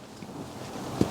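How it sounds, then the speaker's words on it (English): Wind buffets a microphone at a rainy lakeside carp-fishing bivvy, a steady low rumble with one sharper gust near the end. "The wind's picked up, hacking straight in my face."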